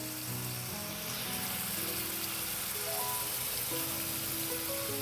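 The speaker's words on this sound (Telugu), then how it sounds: "పన్నీరు అన్ని సైడ్ డార్క్ బ్రౌన్ కలర్ వచ్చేంత వరకు ఫ్రై చేసుకోవాలి" Paneer cubes frying in a pan, a dense continuous sizzle at close range with a faint tonal hum running underneath, no talking.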